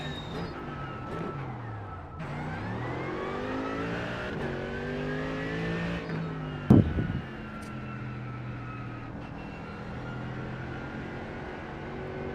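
A Mercedes-AMG race car engine in iRacing climbs through repeated revving and gear-change sweeps during a brake stand. The engine drones loud and steady up close, with a sharp thump partway through.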